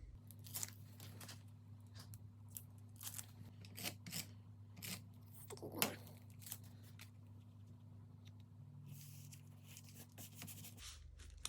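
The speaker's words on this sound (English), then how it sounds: "So I'm going to put the heavy duty tape onto the back of the plastic bag as well" Heavy-duty tape pressed onto the back of a plastic bag for a hidden journaling pocket, giving quiet scattered crinkles, rubs and short tearing snaps over a steady low hum, with no talk.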